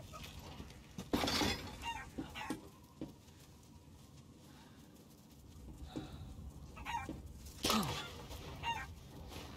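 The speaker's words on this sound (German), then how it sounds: "Ich höre Hühner." Chickens clucking in the horror video game Resident Evil Village, several short irregular clucks nearby over a rumbling game ambience, with a few sharp louder bursts.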